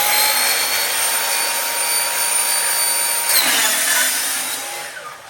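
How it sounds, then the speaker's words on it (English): A saw slowly cutting through roofing material for a deep litter chicken coop, a steady whirring grind that shifts pitch midway and trails off near the end. "I'm gonna cut very carefully with the saw."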